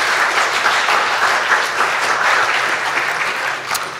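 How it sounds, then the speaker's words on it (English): Steady audience applause after an author's talk on a bootlegger, a dense wash of many hands clapping at even loudness, easing slightly near the end. "yes, a round of applause."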